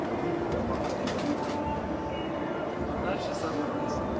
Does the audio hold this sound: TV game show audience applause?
no